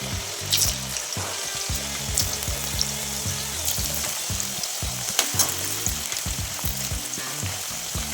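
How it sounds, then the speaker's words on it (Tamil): Potato pieces for French fries deep-fry in hot oil, giving a loud, dense bubbling sizzle close by with occasional sharper pops and clinks, and no speech. "எண்ணெய் சூடானதும் நம்ம இப்போ எடுத்து வச்சுருக்க உருளைக்கிழங்குகளை போட்டுடலாம்."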